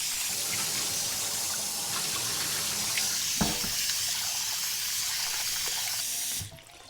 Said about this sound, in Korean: 이렇게 두세 번만 헹궈 주겠습니다.